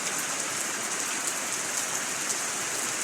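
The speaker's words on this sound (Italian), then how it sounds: "Piove." Steady rain falling in the mountains near Bognanco during a stormy spell, a dense continuous hiss of drops pattering on surfaces, even and unbroken, with no talk.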